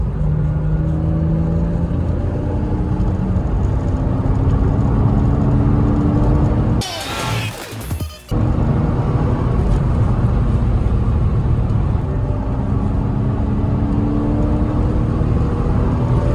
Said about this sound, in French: On a entendu le moteur qui a commencé à gueuler là.